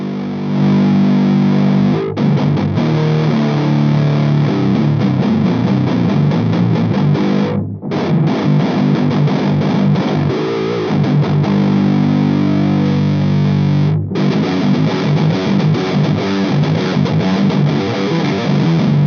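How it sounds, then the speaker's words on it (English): Heavily distorted electric guitar played through a Stonegatefx Black Messenger pedal, loud and dense with sustained chugging chords, broken by two brief gaps where the playing cuts out. "So let's get some distortion happening first."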